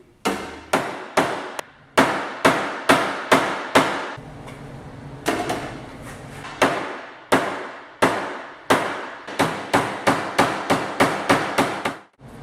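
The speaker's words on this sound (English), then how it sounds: "I've got a workbench and a hammer, so I was able to kind of pound this out" Rapid bursts of sharp metallic hammer blows on a workbench, struck in quick clusters with short pauses between, loud and close, on thin, flimsy sheet metal from a Triumph Spitfire.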